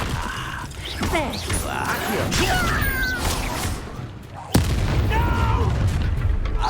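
Confringo fire spell explosions in the video game Hogwarts Legacy on PS5, deep booming bursts and mechanical clatter amid battle noise, with a sharp loud impact near the middle and character voices speaking over it.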